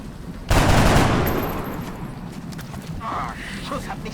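A loud burst of automatic gunfire in the video game XCOM erupts suddenly and rattles on for about a second, then fades into game ambience with faint clicks.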